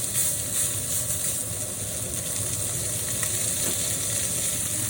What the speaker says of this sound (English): We love sizzle of pork chops.